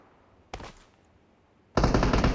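Gunfire in the mobile shooter Classic Boom Baam, with a short burst of shots followed after a pause by a louder, sustained automatic stream of rapid fire.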